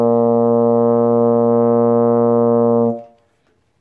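A single sustained brass tone from a long tone and articulation warm-up, held steady and loud for about three seconds before cutting off into near silence.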